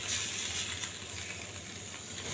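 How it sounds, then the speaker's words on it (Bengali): Chicken roast pieces marinated in salt and lemon fry in the oil left from frying onions, giving a soft, even sizzle throughout the brief moment. "এটা এখন আমি তেলের ভিতরে ভেজে নিচ্ছি।"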